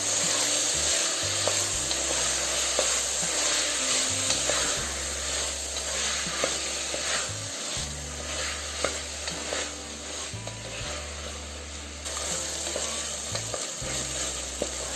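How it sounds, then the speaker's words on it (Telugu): Tomatoes frying with ginger garlic paste for egg biryani in a pressure cooker pan, with a loud continuous sizzle and hiss and occasional stirring scrapes throughout, no talking. "ఇప్పుడు టమాటాలు వేసి బాగా సాఫ్ట్ అయ్యేంత వరకు ఫ్రై చేసుకోవాలి"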